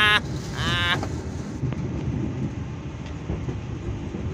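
Argo Dwipangga New Generation executive passenger train running on rails, a steady rumbling roll throughout with a brief high whistle-like tone near the start and faint clicks.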